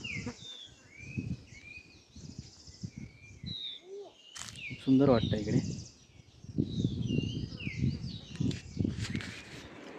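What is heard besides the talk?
birds singing in forest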